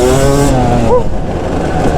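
A Yamaha YZ250 two-stroke motocross bike engine revs hard and loud up close, a sustained high-pitched wail that drops and surges again briefly, heard alone without talk.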